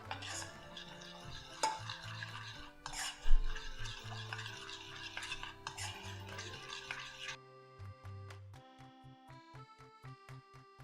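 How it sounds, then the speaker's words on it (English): A spoon stirring coconut milk powder into a thick chickpea bar mixture, with scraping strokes under background music for about seven seconds before the music continues alone. "So just stir it together."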